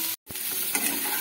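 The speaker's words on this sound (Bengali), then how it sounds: "এবারে ছাতুটাকে একটু আর 1-2 মিনিট হাই ফ্লেমে ভাজা ভাজা করে নেব" Chopped mushrooms fry on a high flame in a pan, a close, steady sizzle with stirring that breaks off for a moment and then resumes.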